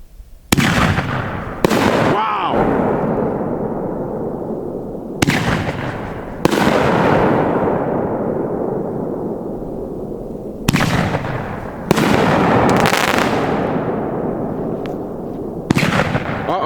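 A 500g Dominator High Voltage fireworks cake fires loud booming shots in irregular bursts, each trailing into long crackling, echoing decay, heard outdoors with no voices.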